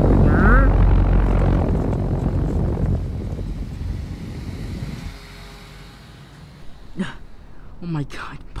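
A helicopter flies overhead, its loud whooshing engine and rotor roar dominant at first and then fading into a steadier, fainter hum, with people talking over it near the end.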